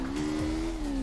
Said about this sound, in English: Gentle clutch kick